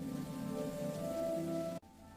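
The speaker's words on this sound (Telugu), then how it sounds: "వర్షం బయటపడుతోంది." Steady rain pours down in a dense, even hiss, then cuts off abruptly just before the end.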